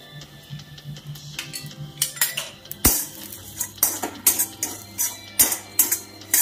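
A spoon stirring red chilli powder and salt into dried shrimp chutney cooked with little oil in a pan, producing repeated close metallic clinks and scrapes in an uneven rhythm, with no talking.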